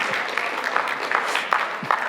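Applause from an audience at a public physics lecture for students, steady clapping filling the hall for a couple of seconds with a few sharper claps standing out.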